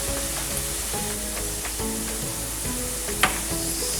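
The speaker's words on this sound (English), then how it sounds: "So first we'll fry this batch, and then we'll fry the rest of koftas." Malai koftas frying in hot oil, a steady close sizzle with soft bubbling and a few light clicks of a utensil against the pan, no talk.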